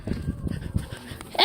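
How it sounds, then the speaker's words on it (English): A pet dog gives a few short barks and whimpers indoors on a cloudy day before rain, mixed with a person's voice nearby. "Hey, stop barking."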